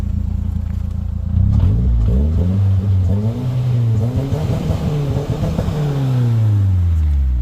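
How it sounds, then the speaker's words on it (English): A Mazdaspeed engine with a new CorkSport throttle body revs repeatedly, pitch climbing and dropping quickly in several sharp throttle blips over a steady idle, close and loud. "it revs really fast now with the throttle body"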